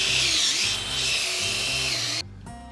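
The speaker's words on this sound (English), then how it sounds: "You just want to drill the hole as plumb and square as you possibly can." A drill with a pocket hole bit bores into a reclaimed barn wood beam, a loud, steady whirring grind lasting about two seconds. It then cuts off abruptly, leaving a quieter residual hum.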